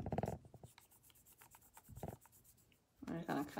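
Paper is rubbed over a leaf for a leaf print, soft scratchy rasping strokes repeating close by, with a person talking at the start and end.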